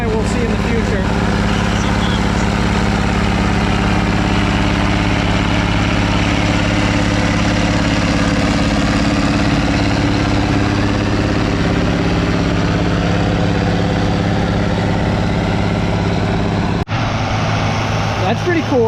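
A tractor engine idles steadily at a horsepower show demonstration with a deep, continuous droning rumble, close and loud, holding an even tone for the whole stretch.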